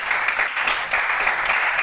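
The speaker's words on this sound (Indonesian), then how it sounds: "Berikan tepuk tangan untuk Hamid." A class applauds a classmate named Hamid during an Islamic ethics lesson, a brief steady patter of many hands clapping together from start to finish.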